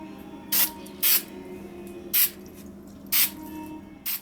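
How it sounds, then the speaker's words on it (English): Super 77 adhesive spray is dusted onto model pine trees in short bursts, five quick hissing sprays spaced unevenly over a low steady background hum, close and clear with no talking. "A little light dusting of Super 77 adhesive spray."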